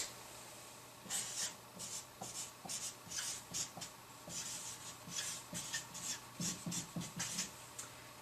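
A pen or marker writes by hand on a board or paper in quiet, scratchy strokes, coming in short irregular bursts with brief pauses between them.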